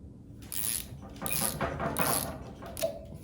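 A Milwaukee 2-in-1 lineman's high leverage ratcheting wrench cranking down a 9/16 nut, giving four bursts of close metallic ratchet clicking with short pauses between strokes.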